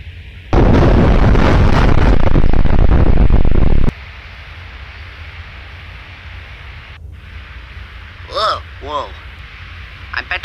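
An explosion sound effect blows up a police station in a toy plush show, a loud roaring blast lasting about three seconds that cuts off abruptly, followed by quiet and brief chirpy voices.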